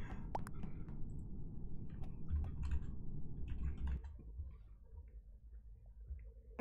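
Typing on a computer keyboard, a quick run of close, crisp key clicks over low background hum, thinning out to a few scattered taps near the end.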